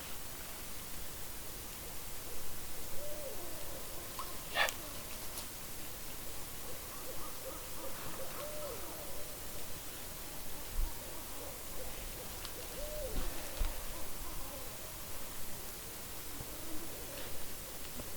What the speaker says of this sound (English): That's the sound of the owls mating.